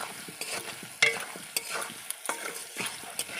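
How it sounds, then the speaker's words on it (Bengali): Spice paste with a little chilli powder frying for a katla fish curry in a village kitchen. A spatula scrapes repeatedly over a soft, steady sizzle, heard close up with no voices. "অল্প লঙ্কা গুঁড়ো দিলাম, দিয়ে কষাই মশলাটাকে ভালো করে"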